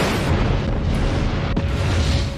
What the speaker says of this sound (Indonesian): Akhirnya kapal itu pun meledak dan tenggelam